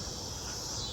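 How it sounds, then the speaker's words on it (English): Cicadas in the Midwest drone in a dense, continuous high buzz that fills the air evenly and steadily, with no other sounds over it. "cicadas."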